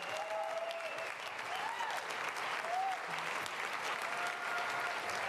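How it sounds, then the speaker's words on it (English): Audience applause for a performer on stage, a broad, even wash of clapping from a crowd that holds steady for several seconds, with faint tonal sounds in the background. "I like that round of applause he's getting there."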